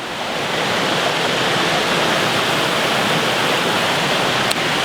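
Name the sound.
Ballaglass River flowing water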